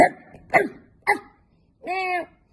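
A voice gives three short, sharp dog-like barks, then a longer, tonal whine-like yelp, imitating a dog.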